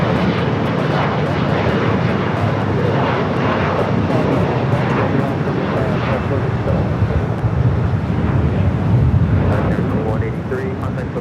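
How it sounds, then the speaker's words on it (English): Boeing 777 freighter lining up for takeoff on runway 25 left at LAX, a continuous loud roar of jet engines with wind noise, steady throughout. "Queen Air Cargo, 777 freighter. Looks like it's lining up for a 25 left takeoff."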